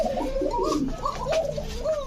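Close, loud cooing of a large pigeon, a series of throaty warbling coos repeating in a steady rhythm.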